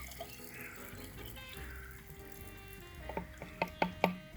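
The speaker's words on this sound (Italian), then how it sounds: "dobbiamo aggiungere mezzo litro d'acqua" Half a litre of water is poured onto crushed eggshells to make an organic plant fertilizer, a soft steady trickle followed by a few louder splashes and clinks near the end.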